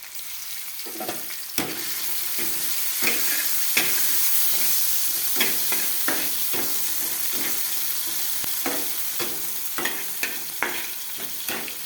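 Tomatoes are tipped onto browned onions in a frying pan, setting off a steady loud sizzle broken by repeated sharp scraping stirs of the spoon, with no talking.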